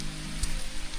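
Steady rain falling, a dense even hiss of drops hitting surfaces, close and continuous with no talk.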